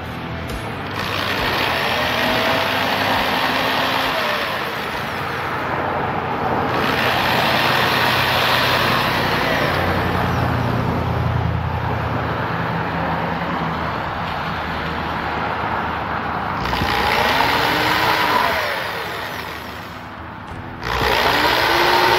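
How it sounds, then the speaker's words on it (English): A power drill bores pilot holes for storm window mounting hardware on a wooden window, whirring loudly and close in long sustained runs separated by brief pauses. "now we make the final drill holes for the pilots for the mounting hardware"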